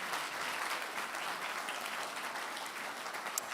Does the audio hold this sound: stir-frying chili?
no